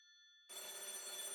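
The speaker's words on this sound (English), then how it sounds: "The phone rang." A telephone rings in an anime scene, starting with a faint tone and then a bright, steady electronic ringing that continues to the end.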